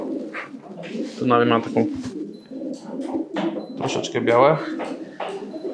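A male pigeon coos in low, throaty rolling calls, two prominent bursts rising over nearby chatter while someone speaks throughout.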